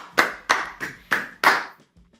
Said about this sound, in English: A little applause there.